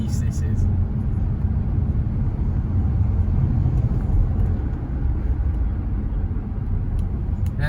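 Bentley Arnage T driving, with a steady loud low engine and road rumble running throughout, the drone holding even with slight swells.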